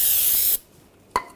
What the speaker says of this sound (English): Just take some brake parts cleaner. Wash it down.